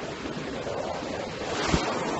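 Pacific Ocean waves on the shore near LA: a continuous broadband roar of surf mixed with wind buffeting the microphone, steady and fairly close.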